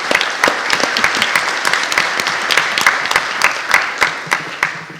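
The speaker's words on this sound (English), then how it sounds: "Let's give them a round of applause." A conference audience at APRICOT 2017 and the APNIC AGM applauds its hosts with loud, crisp, sustained clapping in a hall, individual claps standing out within the crowd.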